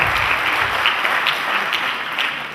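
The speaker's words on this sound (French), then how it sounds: "je vous demande d'applaudir très fort" A crowd at an event in the Zagora region of Morocco claps steadily, many hands blending into a continuous hiss of applause that stays even and moderately loud, tapering slightly at the end.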